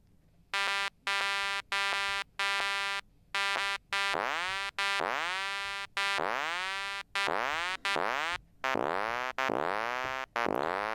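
Pitch-modulated synth tones from the Propellerhead Thor app on iPad, a run of about a dozen short buzzy notes that swoop upward in pitch like farts, rhythmic and loud with brief gaps between them.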